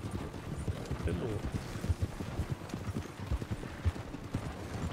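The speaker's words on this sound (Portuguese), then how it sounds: "Ah, o cavalo do seu William aprontando, hein?" Horse hooves clip-clop at a steady trotting rhythm in the video game Red Dead Redemption 2, fairly quiet and continuous, with voices faintly in the background.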